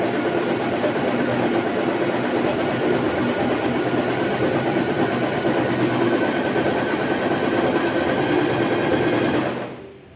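A Janome 3022 sewing machine stitches with a continuous, even mechanical whir and rapid needle rhythm for about nine seconds, then winds down and stops.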